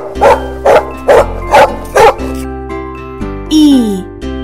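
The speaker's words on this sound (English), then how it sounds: "Dog." A dog barks five times in an even rhythm, loud and close, then lets out a short whine, all over a steady music bed.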